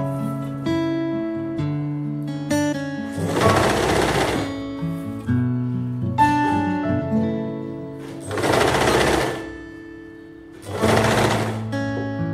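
A sewing machine stitching the seam of an A-line frock, three separate bursts of rapid whirring, each a few seconds long, with pauses between them, over steady background music.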